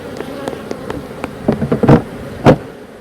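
Bees hum around two newly received, populated beehives during an inspection, a close, fairly loud buzz punctuated by several sharp knocks and thumps that grow stronger toward the end.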